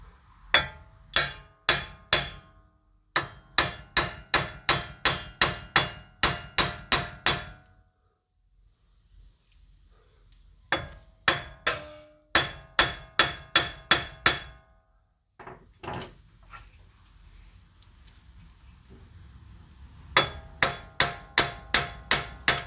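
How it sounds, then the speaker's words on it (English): Rapid bursts of sharp metallic hammering, an air hammer firing in quick rhythmic volleys separated by short silences, working on a ball joint of a 2017 Jeep Wrangler. "I'm going to use an air hammer."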